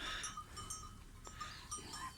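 Sheep and a home-raised lamb in a flock let out short, faint bleats at close range, with low rustling and farmyard background noise between the calls.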